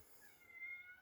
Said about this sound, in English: That was the cat, not Lucy, making that sound.